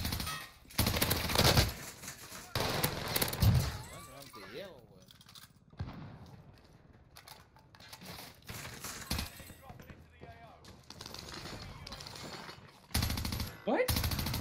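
Gunfire in Call of Duty: Warzone, brief shot bursts and sharp cracks scattered through game noise and other effects, heard alongside someone talking.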